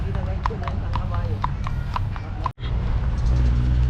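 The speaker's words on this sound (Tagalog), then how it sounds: "Uy, wag kasi sigaw, natataranta yung kabayo." Horse hooves clip-clop at a steady, even trot on a hard surface during a horseback ride in Baguio, a close rhythmic stream of sharp knocks over a constant outdoor rumble.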